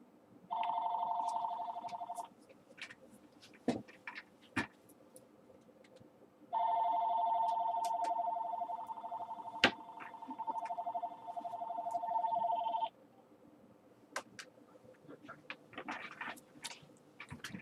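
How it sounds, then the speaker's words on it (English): A telephone rings in two long electronic bursts separated by a pause, heard faintly in a room with scattered ticks and knocks in between and no speech. "I just wanted to shut the phone off quick."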